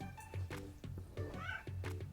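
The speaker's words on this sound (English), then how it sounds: "There's a cat." Cat meowing, several short, faint meows in quick succession with a rising, whiny tone, close but quiet.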